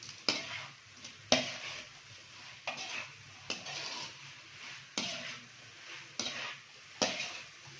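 Chicken being stir-fried in a pan, with repeated sharp tossing or stirring bursts about once a second over a low, steady sizzle.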